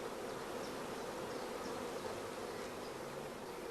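Honey bees buzz around hive frames as they are brushed off and the frames are set into an empty hive body, a soft, continuous droning hum that stays even and fairly quiet throughout.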